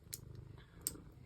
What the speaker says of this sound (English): you can probably hear him purring on the microphone